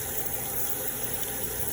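Tap water runs steadily into a clean kitchen sink as beans are washed, a continuous close gushing wash of water with no voices.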